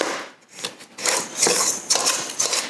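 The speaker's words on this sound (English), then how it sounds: "so I'm going to go ahead and whisk it all together." A cream cheese glaze for a strawberry loaf whisked in a bowl, with uneven bursts of scraping and swishing strokes, close up, pausing briefly near the start, with no talk.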